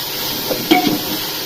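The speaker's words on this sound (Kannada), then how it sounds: "ಶುಂಠಿ ಬೆಳ್ಳುಳ್ಳಿ ಪೇಸ್ಟ್ ಹಾಕ್ತಿದ್ದೀನಿ ಹಸಿ ಹೋಗೋವರೆಗೂ ಚೆನ್ನಾಗಿ ಫ್ರೈ ಮಾಡ್ಕೊಳ್ಳಿ" Tomato, onion and ginger-garlic paste frying in a pan, heard as a loud even sizzle with a brief clink of a spoon against the pan near the middle.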